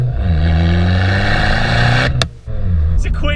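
A modified Fiat 500 Abarth's engine revs hard and loud, climbing in pitch, cuts off briefly on an upshift, then pulls again.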